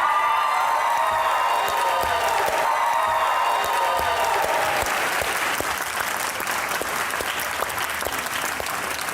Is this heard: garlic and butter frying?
no